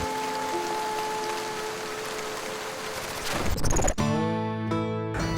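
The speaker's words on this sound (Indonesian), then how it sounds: "mengurangi suara hujan yang sangat berisik ini." Steady rain pattering on roofs in a village with near-constant rainfall, a dense continuous wash of drops that swells and shifts abruptly partway through, with no voices.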